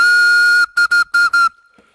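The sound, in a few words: whistle blown on a homemade carrot flute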